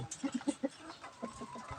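Several chickens cluck softly in a quick uneven run of short notes, fairly faint, with a little background noise between the calls.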